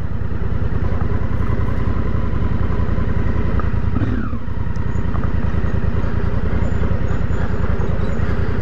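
An adventure motorcycle rides through a campground at Tingha NSW with its engine droning steadily and loud close by, pulsing evenly the whole time.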